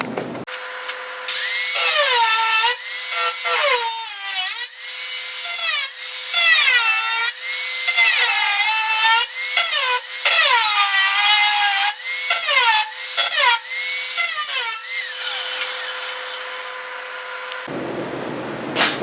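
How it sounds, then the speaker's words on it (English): A power cutting tool slices rust out of the outer door panel of a Chevy C10 pickup, whining loud and nearly nonstop with rising and falling pitch sweeps as it bites into the sheet metal, then stopping near the end. "got all the rust cut out on the outside panel here"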